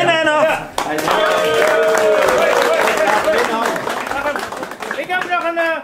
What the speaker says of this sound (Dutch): Nou, applaus voor de winnaar nog!